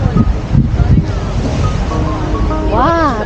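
Waves wash along the seaside at Bari in southern Italy in December, a loud continuous surf roar with heavy wind buffeting the microphone, and a voice briefly speaks over it.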